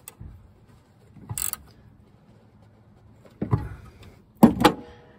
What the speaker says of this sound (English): I'm just torquing down the last bolt